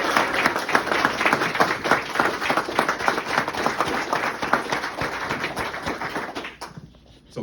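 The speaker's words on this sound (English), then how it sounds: "Please give Greg a round of applause for his priceless accomplishments." Sustained audience applause at a military retirement ceremony for a first sergeant, dense steady clapping from a crowd that carries on for several seconds before stopping abruptly near the end.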